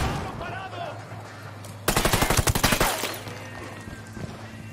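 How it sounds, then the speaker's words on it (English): In a video game, a sharp flashbang bang is followed by a rapid, loud burst of automatic gunfire lasting about a second, then scattered fainter shots and game noise trailing off. "Lobbing a flashbang."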